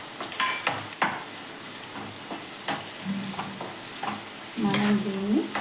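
Chopped tomatoes frying in a pan for aloo methi curry: a soft, steady sizzle, with sharp spoon-on-pan clinks and scraping stirs near the start, and a louder burst of frying toward the end.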